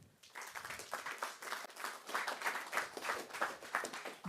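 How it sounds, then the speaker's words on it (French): Audience applause at a summit, a fairly faint but clear patter of many hands clapping at an uneven rhythm for several seconds, with no speech over it. "sous vos applaudissements, mesdames, messieurs"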